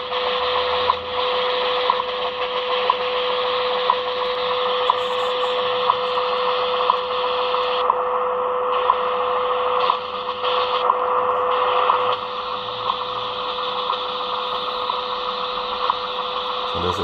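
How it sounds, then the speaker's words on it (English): WWV time station on 25 MHz received on a portable shortwave radio (CountyComm GP-7/SSB or Sangean ATS-405) using only the telescopic antenna: a steady tone buried in continuous hissy static and interference, loud and unbroken. "Hearing WWV on telescopic only."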